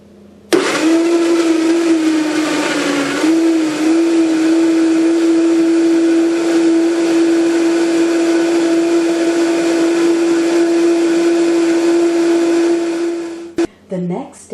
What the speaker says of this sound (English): Cover blender with lid and beat at high speed until the pineapple chunks become